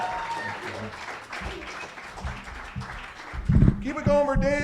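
Comedy club audience applauding as a comedian is brought to the stage, a steady wash of clapping under an emcee's amplified voice, ending in louder cheers and whoops.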